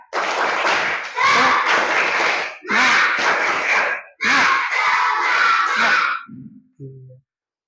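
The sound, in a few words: children doing the 'tepuk semangat' rhythmic class clap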